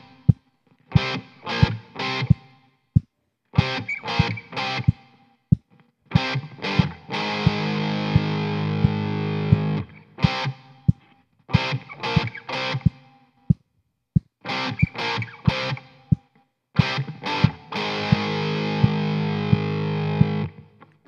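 Distorted electric guitar plays an intro, measures 3 to 10: loud, punchy staccato chord stabs in a repeating rhythm, broken up by long sustained power chords that ring out between the hits.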